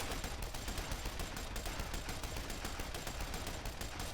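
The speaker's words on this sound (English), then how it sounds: "there's a Confederate machine gun back here." A Confederate machine gun fires in a Civil War battle video game, its rapid, even bursts of shots running continuously and fairly faint, as if heard from some distance.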